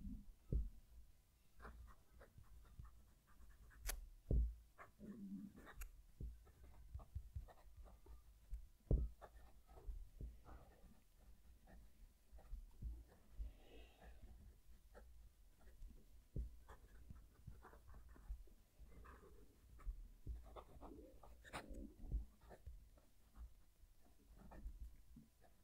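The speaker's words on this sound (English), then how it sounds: "I'm going to move the mic down to the page so you can hear the pen writing" A Jinhao 85 fountain pen writes on paper, recorded close to the page: soft, faint scratchy strokes and light taps in an irregular rhythm over a quiet background.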